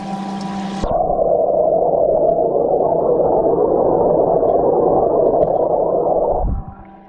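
A bait tank air pump bubbles steadily under water, a loud continuous rushing burble that starts abruptly, holds for several seconds and then cuts off near the end, with no talk over it.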